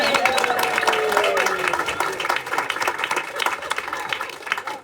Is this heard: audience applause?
yes